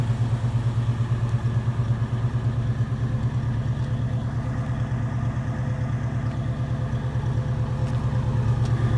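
A 1972 Chevy C10 pickup with a 350 small-block V8, Rochester carburetor and roughly 2.5-inch exhaust, idling steadily up close with a smooth, even low-pitched pulsing rumble and no talk.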